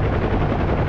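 UH-1H Huey helicopter in the combat flight sim DCS World, a loud continuous rotor and turbine drone heard steadily from inside the cabin, with no speech over it.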